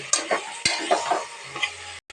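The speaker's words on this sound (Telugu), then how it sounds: "ఇప్పుడు మటన్ ముక్కలు వేసుకున్నాను. దీంట్లో మటన్ అయితే దీంట్లో వేసి కలుపుతున్నా" Half a kilo of mutton pieces is stirred into fried onion and tomato in a hot pan. A few close scraping strokes sound over a soft sizzle.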